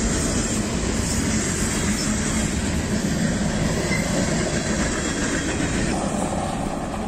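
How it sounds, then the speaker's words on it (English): A long train rolls past close by outdoors on a walk, a loud steady rumble of wheels and cars that holds unbroken for the whole stretch with no one speaking. "That was a long train."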